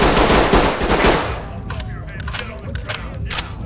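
Rapid automatic gunfire crackles in a video game battle, loud dense bursts that thin into scattered shots, with a player talking over the fighting.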